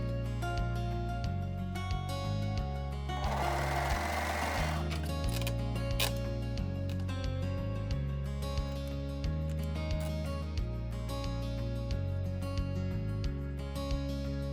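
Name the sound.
sewing machine stitching side seams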